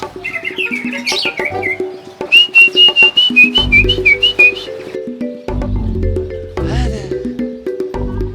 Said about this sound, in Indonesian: Ini suara burungnya nggak ada yang bagus.